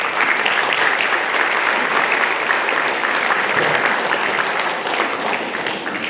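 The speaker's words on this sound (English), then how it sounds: "So for me, a big round of applause." Sustained applause from a crowd at a junior and youth football club awards presentation, steady dense clapping filling the room for several seconds before easing slightly at the end.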